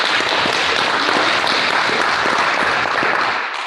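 Loud, close applause at a school board meeting, a thick, continuous patter of many hands clapping that tails off slightly at the end.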